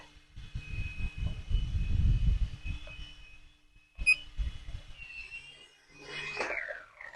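A toy RC helicopter lifts off with a one-button takeoff indoors, its motor whirring up close in uneven surges alongside a tonal electronic hum, then briefly fading before a final swell.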